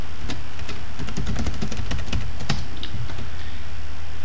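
Fingers type a username and password on a computer keyboard, producing a quick, uneven run of close key clicks over a steady low background hum.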